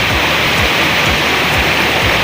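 A mini waterfall at Pupot pours in a dense, loud, steady rush of falling water that carries on unbroken, close by.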